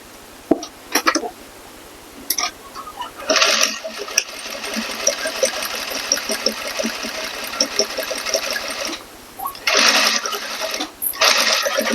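A sewing machine stitches a corset modesty panel in two bursts of rapid, even whirring, close and moderately loud, with quiet handling sounds between them.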